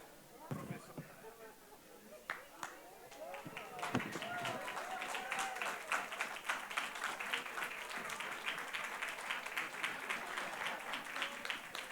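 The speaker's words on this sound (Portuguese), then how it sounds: "Mais aplausos por esse registro especial" Audience applause at a Brazilian tax officials' conference panel tribute, swelling from scattered claps into steady, sustained clapping across the room, with voices mixed in near the start.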